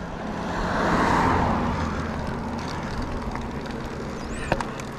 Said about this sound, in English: gotta wait for a gap in traffic here